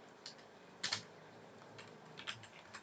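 Keys clatter on a computer keyboard in a few quiet, irregular bursts of typing with short pauses between, close and faint in an otherwise still room.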